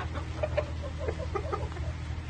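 Black and white bantam Cochin chickens give soft, scattered clucks close by over a steady low hum, several short murmuring calls without speech.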